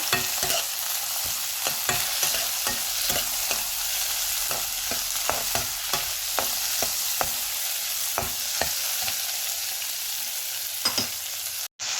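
Vegetables with chopped garlic and green chillies are stirred together in a hot pan, giving a steady bright sizzle broken by frequent light scrapes and clicks of a utensil, close up, with no voices.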